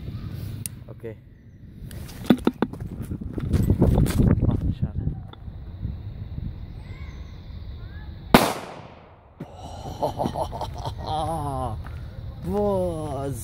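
Böller firecrackers bang on New Year's Eve, with sharp explosive cracks around two, four and eight seconds amid wind noise, while people talk and exclaim nearby.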